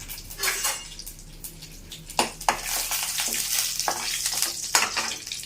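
Tempering spices for lemon rasam sizzle and crackle in hot oil, a steady frying hiss with scattered pops and a few clinks of a spoon stirring in the pan.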